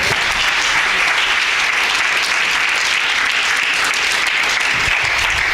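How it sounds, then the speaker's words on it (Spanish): Loud, sustained applause from a large church congregation, steady and dense throughout with cheering mixed in. "Denle un aplauso fuerte al Señor"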